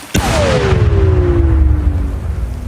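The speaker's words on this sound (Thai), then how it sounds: "ระเบิดทำลายไปหลายลูกทีเดียวครับ" A sharp blast from a controlled detonation of unexploded Cambodian ordnance in Surin, Thailand, opens the clip, then a long descending whistle-like tone and a heavy rumble linger afterward, with no voices present.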